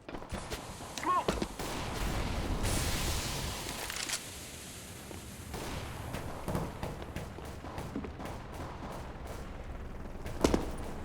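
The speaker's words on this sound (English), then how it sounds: "Yeah, I hear the shots." Gunshots from the Counter-Strike: Global Offensive video game ring out in bursts of rapid, sharp shots, some distant and some close, with a louder crack near the end, while voices talk faintly in the background.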